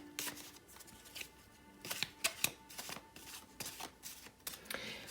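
Tarot deck of the Urban Tarot being shuffled by hand: a quick run of crisp riffling snaps and soft card slaps at close range, uneven in rhythm, with no talking.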